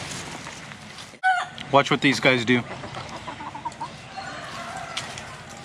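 Chickens and a rooster clucking and calling at a roadside stop near Doi Suthep in Chiang Mai, several short bursts mixed with someone talking over them.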